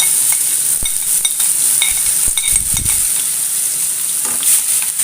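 Crushed shallots, garlic and dried red chilies fry with popped mustard seeds in hot oil, making a loud, continuous sizzle close by, broken by scraping stirs and clinks of a spoon against the pan.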